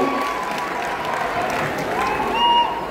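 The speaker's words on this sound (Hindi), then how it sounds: "एक बार जोरदार ताली करके हम रवीना जी का स्वागत करें" Crowd at an outdoor herbal fair applauds to welcome actress Raveena Tandon, a steady sheet of clapping with some cheers and whistles, swelling slightly near the end.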